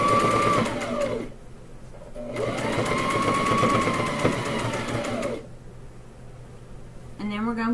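A sewing machine back stitches a rag quilt seam in two sustained bursts, loud and close, with a short pause between and a quieter stop near the end, where a voice briefly talks.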